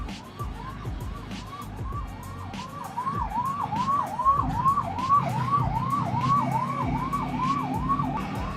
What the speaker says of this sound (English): अरे उस एम्बुलेंस को जाने दो भाई।